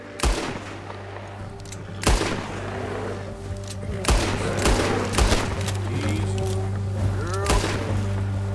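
Gunshots ring out in Red Dead Redemption 2 during a deer hunt with a bear nearby, sharp cracks arriving at irregular intervals about two seconds apart over steady game ambience and low hum.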